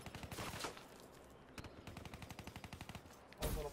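Video game gunfire comes in rapid automatic bursts, with a dense volley at the start, a sustained rattle in the middle and a louder burst near the end, faint overall and without talk.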